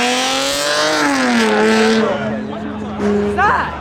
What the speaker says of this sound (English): Is that a VQ swapped Lexus? I did not know that sounded like that.